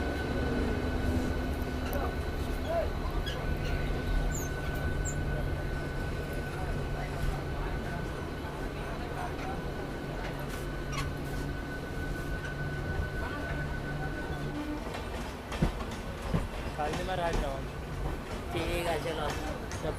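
A Medinipur–Howrah local train departs Kharagpur railway station, a steady low rumble and rolling clatter with a faint tonal hum throughout, station chatter and background voices mixed in, and a few louder knocks near the end.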